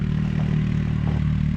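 An ATV quad engine runs steadily at a low, even idle with a throbbing hum and slight mechanical clatter, close and continuous, in snow.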